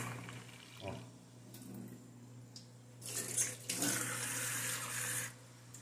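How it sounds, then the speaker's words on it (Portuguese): Warm water poured into a vessel while making cheese, a faint trickle that swells into a fuller splashing pour midway, close and quiet with no talk. "Ó, pessoal, agora vai colocar água morna aqui."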